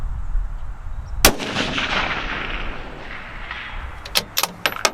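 A precision rifle shot fired at a target during PRS shooting cracks once, loud and close, with a long rumbling echo rolling away, followed by a few sharp clicks and clunks of rifle handling.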